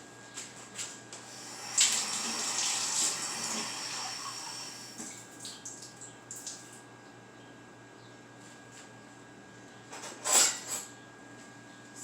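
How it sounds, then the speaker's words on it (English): Warm water runs from a kitchen tap to fill a quarter cup for blooming gelatin for homemade marshmallows: a quiet, steady stream close by, with a couple of louder splashy bursts and no talking. "1/4 of a cup of warm water, just from the tap."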